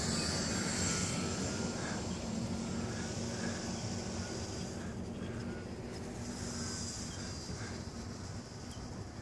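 The electric motor of a Slow Stick RC model airplane buzzes steadily overhead in flight, a continuous high whine over outdoor background noise that stays fairly constant throughout, with no talk.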